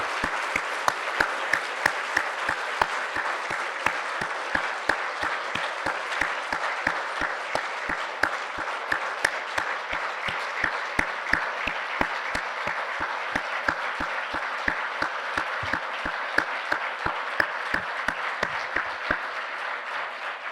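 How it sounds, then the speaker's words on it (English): Sustained audience applause at an academic symposium, a dense steady patter of many hands clapping for about twenty seconds with no speech over it. "I'd like you all to turn, look at them, and give them a round of applause."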